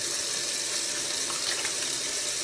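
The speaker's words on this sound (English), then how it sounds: "Run your little hot water on there and just keep a scrubbing." Hot water runs steadily from a kitchen tap over hands scrubbing with dish detergent and sugar, a constant close hiss of flowing water with no talk.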